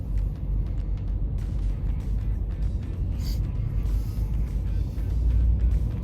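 A pickup truck carrying a camper rolls slowly over the platforms of a CAT scale, giving a steady low engine rumble and road noise from inside the cab with faint creaks and bumps.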